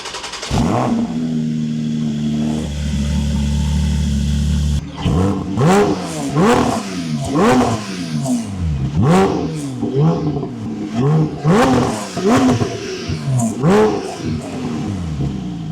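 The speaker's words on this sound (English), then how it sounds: "Let's fire it up and see what that smaller silencer has made to the exhaust note." A Porsche GT4 engine idles with a deep rumble, then the exhaust, fitted with a smaller silencer, revs repeatedly in loud rising and falling bursts, close and aggressive.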